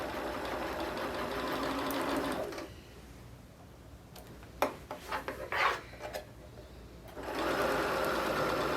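A sewing machine stitches through quilt fabric in bursts, its quick mechanical whirr stopping for a few seconds of pin handling and small clicks before running again.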